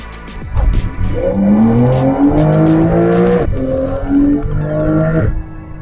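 A Porsche 911 GTS engine revs hard and climbs steadily in pitch through gear changes toward 8,000 RPM, loud and close, with a brief drop between shifts.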